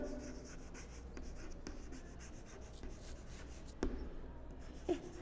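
Chalk or marker writing on a board in a maths class, a continuous soft scratching and rubbing with a couple of sharper taps, close and quiet with no voices.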